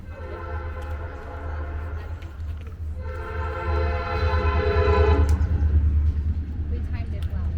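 A train rolls through a small town in North Miamisburg, a sustained low rumble with rising tonal horn-like layers that swell and fade, heard nearby under faint background voices.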